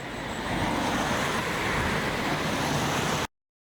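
Continuous roar of traffic on a busy road, vehicles rumbling past steadily and close by, then an abrupt cutoff.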